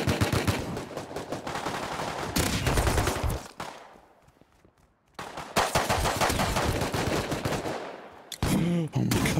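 Rapid automatic gunfire from the Rust video game crackles loud and close in dense bursts, breaks off into a brief quiet lull, then resumes with sustained volleys and a final short burst.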